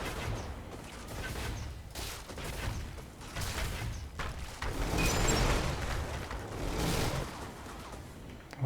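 Turrets firing in the mech combat game Brigador, a dense run of booming shots and explosive bursts packed close together, loud and continuous with a few heavier peaks.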